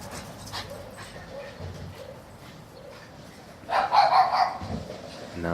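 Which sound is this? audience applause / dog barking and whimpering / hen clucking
dog barking and whimpering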